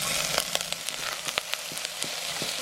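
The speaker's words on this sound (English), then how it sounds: "We're gonna make some spring onion oil. A little bit of oil. Spring onions in." Spring onions frying in a little oil, a steady close sizzle broken by irregular soft clicks and pops from the pan.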